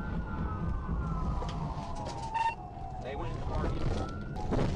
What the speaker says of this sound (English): A thrilling chase ensued, with sirens blaring.